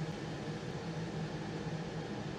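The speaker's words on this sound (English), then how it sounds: "You get this freezing effect on the reverb." A frozen reverb tail from a SuperPlate plate reverb plugin holds as a steady, dense wash of sustained sound with no decay, droning evenly at a moderate level throughout.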